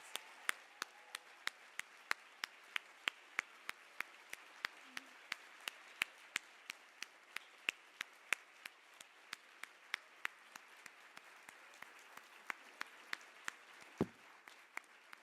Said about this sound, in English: Please join me in another warm round of applause for our newest Living Legends.